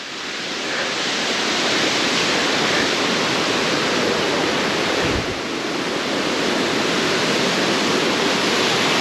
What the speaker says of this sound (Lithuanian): Krioklys.